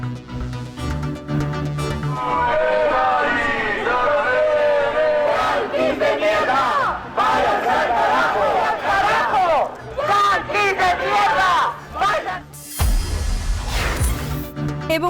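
A large crowd of protesters at demonstrations in the United States and other countries chants and shouts in rhythmic waves, loud and sustained, ending with a sudden burst of noise.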